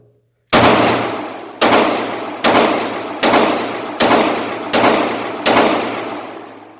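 Seven loud, sharp gunshots fired from a rifle loaded with a Pro Mag magazine, evenly spaced about a second apart, each cracking and ringing out with a decaying tail outdoors.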